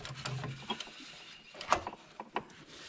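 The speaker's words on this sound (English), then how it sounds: "it does help if you put the filter wrench on the right way. We want to loosen, not tighten" A filter wrench works loose the oil filter on a Bush Hog zero-turn lawn mower, giving scattered close metallic clicks, creaks and ratcheting knocks in short irregular bursts.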